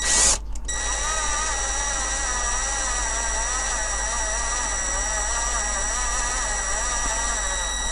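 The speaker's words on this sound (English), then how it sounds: "I'm going to put the old drill down here now" A power drill whirs steadily at a low, even speed after a brief start while restoring a Corgi Hillman Imp police car toy, its motor whine holding a constant pitch close by.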